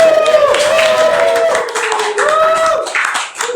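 An audience claps for Kak Momo at an evening event, with hand claps mixed under loud cheering and whooping voices that rise and fall across a few seconds.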